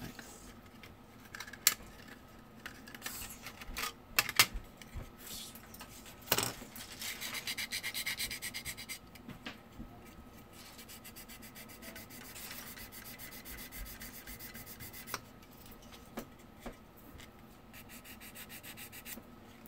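Hand sanding of a Mini car body panel at the front of the fender, with soft rasping strokes in bursts, fairly faint and close, mixed with knocks and handling noises.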